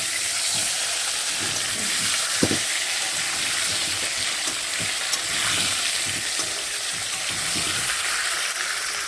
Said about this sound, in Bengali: এই যে আলু দিয়ে দিচ্ছি